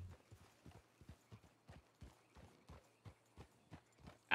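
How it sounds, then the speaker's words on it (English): A horse ridden in the Western game RedM clip-clops in a steady, even trotting rhythm, the hoofbeats fairly faint and alone, with no talk over them. "I just kind of got on my horse and was like, I guess we're going this way now."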